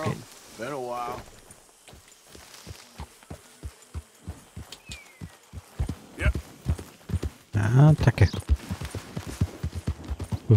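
Steady clip-clopping hooves of a horse in Red Dead Redemption II beat an even rhythm at moderate volume, with a horse snort, game sounds and someone talking over them.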